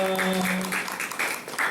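A church congregation claps in welcome during a Sunday service, a short burst of steady applause with faint tonal voices or music lingering at the start.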